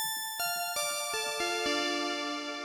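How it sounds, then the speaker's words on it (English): A Mikro Prism software synth playing its Synthetic Bells preset gives bright, ringing bell tones that step down in a short melody. Each note strikes sharply and rings on with shimmering overtones. "I started out with this Mikro Prism preset called Synthetic Bells that sounds like this."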